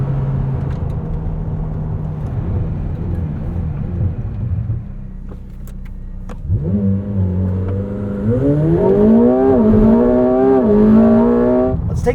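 A 2024 McLaren 750S driven on a race track, its engine droning steadily from the cabin, then rising in a strong revving climb through the gears, loud and continuous with no talk.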